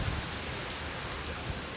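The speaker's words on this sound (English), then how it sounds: "Jeff, as hard as it's raining here in Wilmington" Heavy rain falling in Wilmington during Hurricane Florence, a steady dense hiss of downpour with no voices, holding at an even level throughout.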